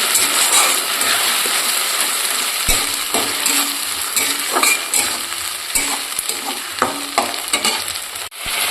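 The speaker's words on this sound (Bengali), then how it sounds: "সেটা দিয়ে এবার ভালো করে কষিয়ে নেব।" Spice paste for an eggplant and mutton curry fries in a pan while a spoon stirs it, giving a steady loud sizzle broken by repeated scraping and clinking strokes against the metal.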